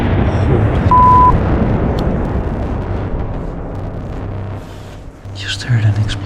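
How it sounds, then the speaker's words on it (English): A deep, rumbling boom from a missile explosion near a war frontline rolls out from a distance and fades, with faint background noise and a brief voice near the end. "Just heard an explosion."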